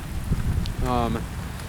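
Rain falls steadily during a lightning storm high in Colorado's San Juan Mountains on the Colorado Trail, a constant hiss with wind, and a voice speaks briefly partway through.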